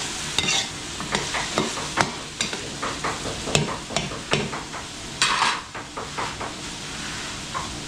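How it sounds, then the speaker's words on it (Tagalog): Garlic, onion, potatoes and carrots being sautéed in a pan, with repeated scraping and stirring strokes of a utensil over a steady low sizzle, close and moderately loud, no talking. "Para pag nagisa na yung bawang sibuyas natin, so malambot na ng konti yung ating patatas saka carrots"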